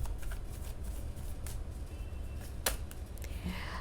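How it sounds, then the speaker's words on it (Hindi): Tarot cards falling and being shuffled during a card reading, a quick close flurry of papery riffles and slaps with one sharp snap near the end, no talking. "बार बार कार्ड्स गिर रहे हैं"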